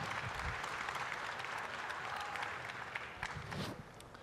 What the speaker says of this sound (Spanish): con un aplauso para ellos